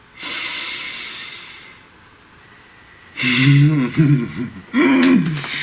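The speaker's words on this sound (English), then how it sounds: "Take a nice deep breath." A deep breath drawn in close to the microphone, a long airy inhale followed by a pause, then two louder breathy pushes with a snort-like, throaty edge, heard alone with no talk.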